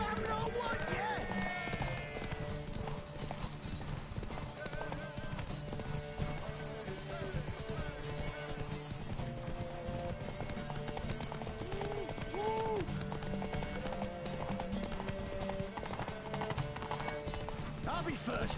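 Horse hooves clip-clop at a gallop in the video game Witcher 3, steady and continuous with a whinny, under game music and voices talking.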